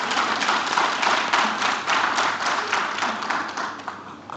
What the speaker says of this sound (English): I truly don't want to stop the applause.